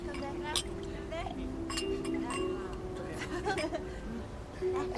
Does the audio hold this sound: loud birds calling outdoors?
no